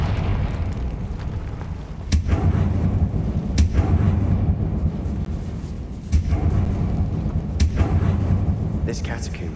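Deep booming blasts of the Confringo explosive spell in the video game Hogwarts Legacy: a low rumbling bed punctuated by several sharp cracks roughly every two seconds, loud and close.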